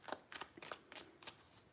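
Tarot cards being shuffled in several quick riffling bursts, each a short crisp flutter of card edges, close and alone with no talk.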